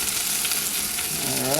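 Seafood and chicken pieces sizzle in a wok with a loud, dense, continuous frying hiss over a short stretch, close up and alone without voices.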